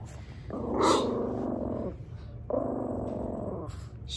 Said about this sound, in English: she's growling at her from down here to say, don't bother me